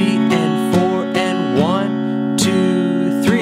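Slow acoustic-style guitar playing the riff and strumming of a song, with sustained picked notes, a bending slide and a few clear strums, close and alone.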